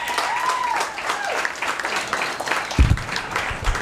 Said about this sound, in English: Make a lot of noise, my buddy Geoff Tate